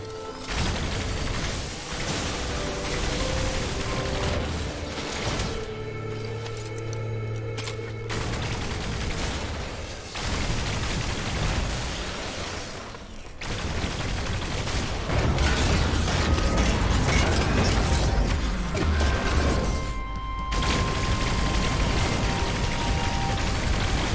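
In the video game No Man's Sky, cannon fire and explosions hit sentinels in dense, loud, continuous barrages of rapid shots and mechanical booms lasting throughout, with no speech.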